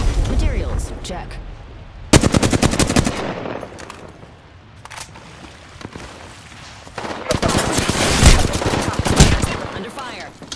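Bursts of automatic gunfire from an Apex Legends match on PS4 Pro rattle in loud rapid volleys, with quieter gaps between clusters and a heavy sustained barrage near the end.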